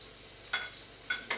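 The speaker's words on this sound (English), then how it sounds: "We're going to add our minced garlic. It goes in." Minced garlic goes into butter in a pan over turned-down heat, giving a faint hiss with three short bursts of sizzle or stirring scrapes.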